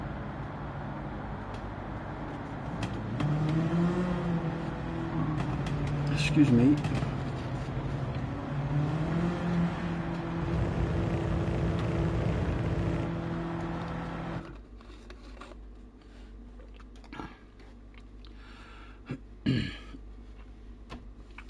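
A small car's engine in the racing game Gran Turismo 7 drones and climbs in pitch through a couple of rev rises, then cuts out abruptly, leaving quiet room noise with someone speaking briefly.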